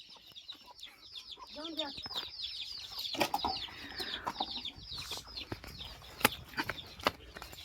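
Hens cluck and squawk in short bursts near the microphone, with wing flaps and sharp clatters, while people talk in the background.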